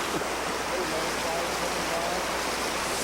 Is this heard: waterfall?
yes